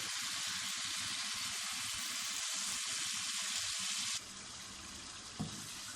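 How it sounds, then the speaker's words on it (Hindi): Chicken frying in a pan, a steady close sizzle with scraping stirs that cuts abruptly to a softer hiss near the end, followed by a single light knock. "चिकन हमारा अच्छी तरह रोस्ट हो चुका।"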